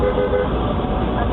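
Car horns honk at an elderly pedestrian stuck on a crosswalk. Several short, repeated toots sound over loud, rumbling street traffic.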